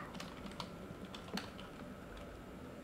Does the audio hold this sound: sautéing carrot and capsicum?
no